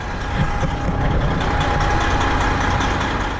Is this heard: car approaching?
yes